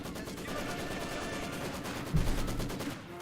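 Maxim machine gun firing in Company of Heroes 2, a faint, distant rapid stream of shots in a steady rattling rhythm, with a heavier thump partway through amid battlefield noise.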